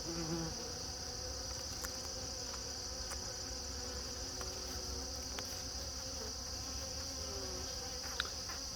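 Honeybees buzz in a steady, continuous drone throughout a late-season nuc hive inspection, close and even with no talking.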